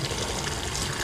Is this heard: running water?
yes